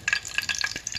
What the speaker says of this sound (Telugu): వేగాలి, బాగా వేగితేనే కమ్మగా ఉంటుంది.